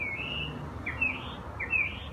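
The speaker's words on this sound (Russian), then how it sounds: "Вот они будут все лето петь, эти птички." Small birds sing in spring with short bright chirping phrases, repeated several times in quick succession over a soft outdoor background.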